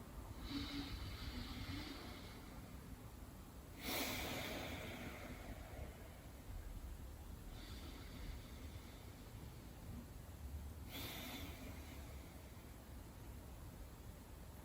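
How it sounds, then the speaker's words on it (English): Slow, deep breathing during a morning full-body stretch: two long, soft breath cycles, each an airy inhale and exhale lasting several seconds, close and quiet over a steady background hiss, with no talking. "let's take 2 more breaths here"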